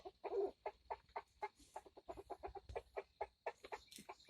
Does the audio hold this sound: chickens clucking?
yes